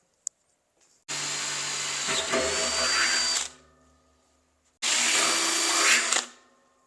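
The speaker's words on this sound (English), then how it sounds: "Drill a 1/2-inch hole in it." A power drill whirs in two sustained bursts while drilling a half-inch hole, the first about two and a half seconds long with a pitch change, then a pause before a shorter second run.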